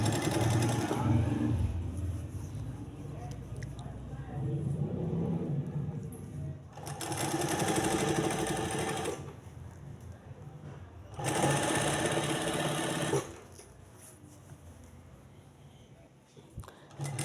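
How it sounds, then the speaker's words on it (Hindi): A sewing machine stitches along the edge of a fabric sleeve piece. Its close, steady whir comes in several runs of a few seconds each, with short quieter pauses between them. "इस तरह से इसके किनारे पर हम सिलाई चलाते जाएंगे।"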